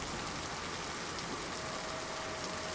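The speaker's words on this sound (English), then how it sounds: "Very loud rain." Steady, very loud rain, dense and unbroken like a hard downpour, filling the whole moment with hiss and no voices.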